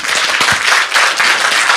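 A studio audience gives loud, close applause for a talk-show guest, the clapping dense and continuous from start to end with slight swells in intensity.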